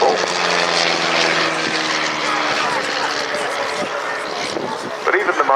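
A De Havilland Chipmunk propeller aircraft drones overhead at the RAF Cosford airshow, a loud, steady engine hum that holds throughout beneath a commentator's voice.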